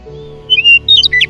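A baby jay gives a quick run of bright, high chirps and squawks, loud and close, over a low steady hum with no talk.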